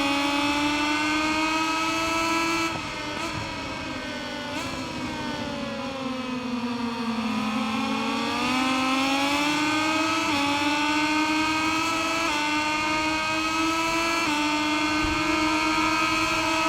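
A Moto2 motorcycle engine in MotoGP 21 holds a loud, sustained high-revving whine at top speed down a straight, dipping briefly mid-run before climbing again, heard alone without talk.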